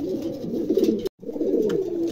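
A pair of pigeons for sale in Pabna gives close, throaty cooing in two steady bursts split by a brief silence.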